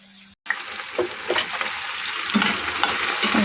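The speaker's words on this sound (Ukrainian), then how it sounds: "Зараз помішаю м'ясо" Meat frying and being stirred in a pan for pilaf, a steady sizzle with scraping stirring strokes close by, loud and continuous after a brief quiet start.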